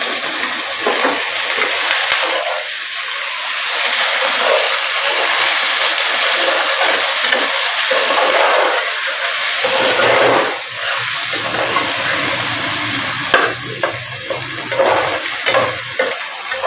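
Chicken frying with ginger garlic and green chili paste makes a loud, dense sizzle close by, with stirring scrapes and surging bursts of hissing steam, constant throughout and without speech.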